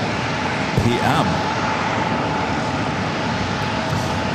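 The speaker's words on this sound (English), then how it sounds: "Japan Airlines, flight 66, coming in from Tokyo to Rita, the 787-8 Dreamliner" A Japan Airlines Boeing 787-8 Dreamliner arriving from Tokyo at San Diego airport, its engines giving a loud, steady roar that fills the whole stretch, with a brief voice near the start.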